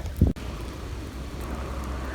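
Steady, even rain hisses throughout at moderate level on an overcast work day, after a brief low thump at the very start.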